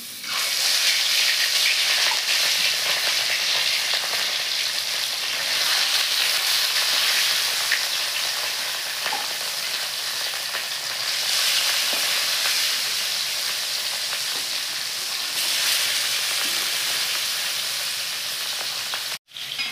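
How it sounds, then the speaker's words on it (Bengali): Katla fish frying in hot mustard oil makes a loud, dense, continuous sizzle that swells and eases slightly over about twenty seconds before stopping abruptly at the end. No one speaks. "দেখেন এদিকে মাছটা ভাজা হয়ে গেছে"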